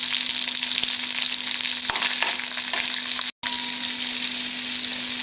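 Crushed garlic frying in melted butter in a pan, a steady close sizzle that holds evenly throughout with a brief cut near the end.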